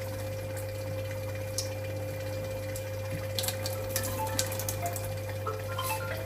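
An Enagic LeveLuk SD 501 water ionizer runs through a deep cleaning cycle, giving a steady, close pump hum with water flowing beneath it and a few faint clicks and ticks.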